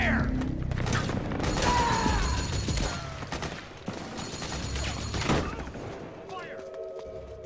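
Gunfire and mechanical clatter from the Metal Gear Solid 4 video game, with bursts of shots, metallic ratcheting and busy battle noise layered under shouted voices throughout.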